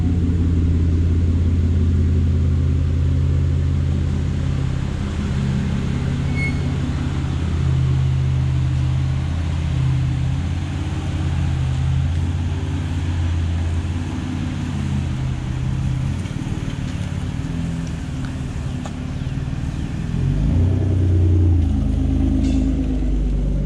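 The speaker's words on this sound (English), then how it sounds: "Alright, so we're done. Car's coming out." A slammed 7th-gen Nissan Maxima with Akebono big brakes pulls out of an auto shop, its engine a loud, close, continuous low rumble with steady droning tones and no talk over it.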